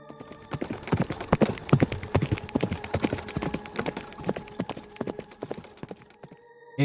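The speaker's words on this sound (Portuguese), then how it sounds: "Correu e subiu no seu cavalo." A horse's hooves clip-clopping in a quick, steady galloping rhythm, close and fairly loud, continuing without pause on a farm.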